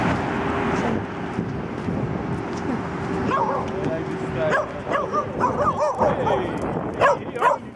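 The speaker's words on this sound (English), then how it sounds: "These stray dogs? Damn, dogs." Stray dogs barking and yipping outdoors on a city street in Poland, several sharp barks clustering toward the end over steady street and wind noise, with people talking nearby.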